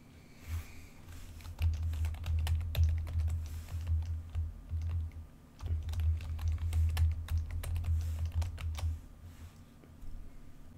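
Someone types a pre-shared key on a computer keyboard while configuring a Sophos XG firewall VPN, giving quick clusters of close, crisp keystrokes in two bursts over a low background hum.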